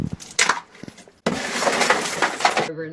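Tempered glass shattering, a sudden loud crash with a burst of fragments and tinkling that carries on for over a second, preceded by brief talk.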